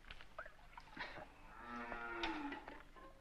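A cow moos several times in a stable, the low drawn-out calls rising and falling, moderately close and quiet, with no talk over them.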